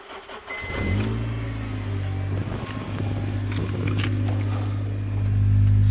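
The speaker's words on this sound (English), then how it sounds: "we're gonna preheat the engine" A car engine starts and settles into a steady, loud idle with rising revs toward the end, warming up before an oil and cabin air filter change, no talking over it.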